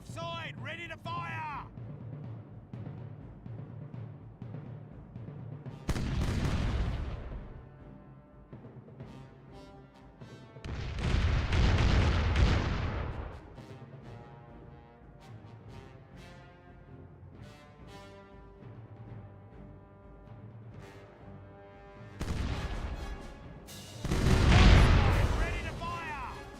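Ship cannons roar in broadside volleys during a naval fight in the pirate video game Caribbean Legend, with three separate rumbling bursts across the span and quieter game sound and music filling the gaps between them.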